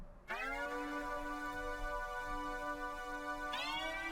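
A sustained synth pad with a chorus preset and no further effects holds a steady, rich harmonic chord, with a bright new chord swelling in near the end, alone and fairly loud.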